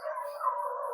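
Dogs howling at night in a Philippine neighbourhood, a single sustained wavering howl heard clearly from a moderate distance with no talk over it.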